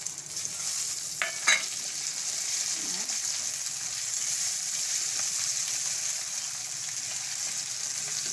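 Eggplant sizzling as it fries in a pan for Gujarati kadhi, a steady soft hiss throughout with a couple of brief clinks of stirring near the start.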